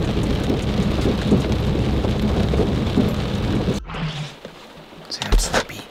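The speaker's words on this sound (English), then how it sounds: "Anyways, it's been raining nonstop." Steady heavy rain patters and hisses for several seconds, then cuts out abruptly, leaving quieter dripping and faint rustling.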